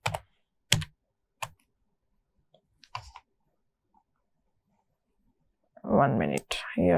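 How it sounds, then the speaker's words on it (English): A few computer keyboard keys pressed one by one as sharp, isolated clicks spaced about a second apart, followed by a person speaking close by near the end. "here some keys pressed"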